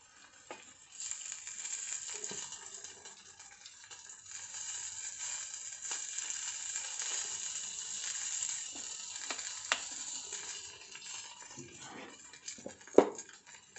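Chicken fries in shallow oil with Kobe seasoning, a quiet, crackly sizzle with scattered pops and scrapes, and a sharper clack near the end.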